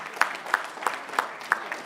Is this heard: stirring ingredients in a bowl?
no